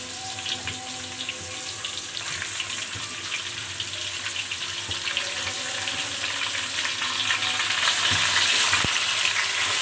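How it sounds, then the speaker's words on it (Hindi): Half a kilo of chicken frying with golden-browned onions for a dahi gosht curry, a continuous loud sizzle that grows slightly stronger over several seconds, with occasional clicks of stirring. "अब हम इसमें चिकन ऐड कर देते हैं।"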